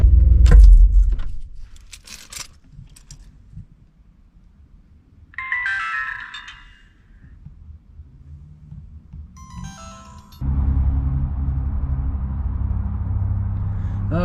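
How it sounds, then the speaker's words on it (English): A pickup truck's engine idles as it warms up on a cold morning, first keys and door clatter with a brief electronic chime, then the engine catches near the end and settles into a steady low rumble. "Gotta warm up the truck first."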